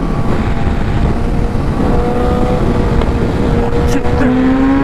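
Kawasaki ZX10R sport bikes, one a tuned 2019 model and one a bolt-on 2011, run hard in third gear side by side. The engines give a loud, continuous roar with rising revs, heavy wind rush and a voice under the noise.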